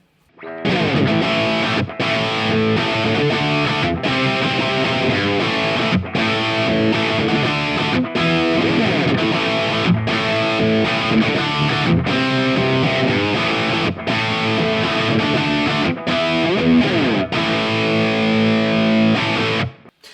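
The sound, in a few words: distorted electric guitar through amp plugin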